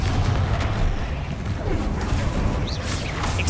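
The Confringo explosion spell from Hogwarts Legacy erupts in a booming, rumbling blast, with a dense roar of debris lasting throughout and a faint whistling flourish near the end.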